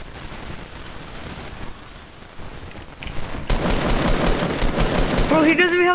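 Heavy bursts of automatic gunfire in a first-person shooter game, rapid and loud, swelling in the second half with overlapping fusillade and tonal game effects near the end.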